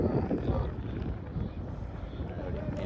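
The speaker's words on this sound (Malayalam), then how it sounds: "നല്ല കാറ്റ് നല്ല കാറ്റ്" Steady wind roars and rumbles against the microphone at an outdoor cricket match, loud and constant throughout.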